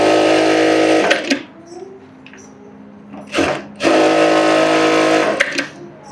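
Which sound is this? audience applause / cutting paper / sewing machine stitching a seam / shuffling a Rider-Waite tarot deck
sewing machine stitching a seam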